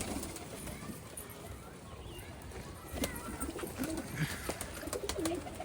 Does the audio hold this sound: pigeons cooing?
yes